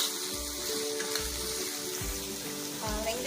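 Onions sauté in a pan with cumin seeds for a chicken biryani, giving a steady close sizzle broken by a few low thumps of stirring, with no voices.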